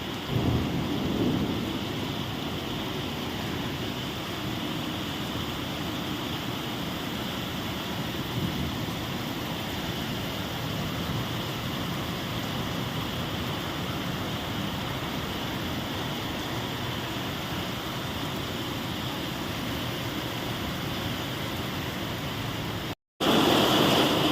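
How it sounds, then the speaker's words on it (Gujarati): Heavy downpour with thunder during Navratri in Ahmedabad, India: a dense, steady roar of rain fills the whole stretch with deep rumbling underneath. It drops out for a split second near the end, then returns just as loud. "નોરતે અમદાવાદમાં ધોધમાર વરસાદ ચાલુ છે"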